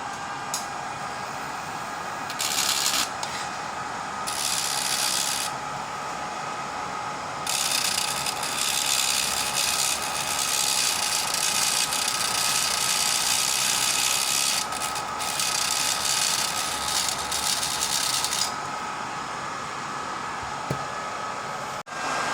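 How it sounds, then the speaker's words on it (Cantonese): A Boom ultra-thin vacuum sanding pad runs its suction continuously, a loud, steady, airy motor hiss and whir close up that shifts in intensity in several steps as the suction setting changes, with no talking. "我哋而家立即試一試嗰個吸塵嘅能力，比較下邊部會好啲。"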